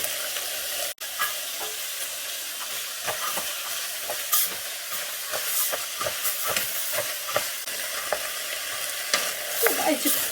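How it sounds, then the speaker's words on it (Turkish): Chickpeas fry in a pot with a steady hiss and sizzle while a utensil stirs and scrapes through them in irregular clicks and scuffs, close and fairly loud, with no talk. "Şimdi nohut ekleyelim. Karıştıralım."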